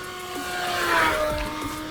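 An E-flite V1200 RC plane flies past with a loud, high-pitched electric whine that swells toward the middle and then eases off as it moves away.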